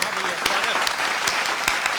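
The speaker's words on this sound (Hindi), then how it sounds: "एक बार तालियां आप बजा दीजिए।" An audience at a spoken poetry or discourse event breaks into applause, a dense, steady clapping of many hands with a voice faintly underneath.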